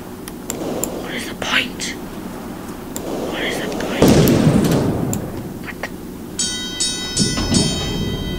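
Thunder from lightning in the video game The Howler rumbles through, with a heavy crack and low roll in the middle and softer rumbles around it, under whispery ambient sounds.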